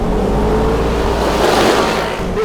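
A 2-cylinder 1000cc UTV buggy engine holds a constant 7,000 revs right behind the listener, a loud continuous drone with a faint rise in intensity toward the end.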